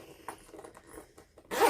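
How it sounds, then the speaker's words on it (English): Zipper on a handmade fabric bag being pulled, with a few short scratchy zips and soft handling noises followed by a louder final zip at the end. "you can just zip it right back up"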